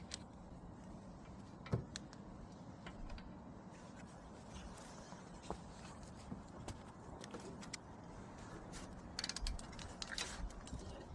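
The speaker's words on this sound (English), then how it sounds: "we'll be using a 16mm socket to undo both of the bolts which are holding the clamp" A 16mm socket wrench ratchets against brake caliper clamp bolts on a BMW Mini Countryman's front brakes, producing quiet, irregular mechanical clicks and clunks close by over a low background rumble.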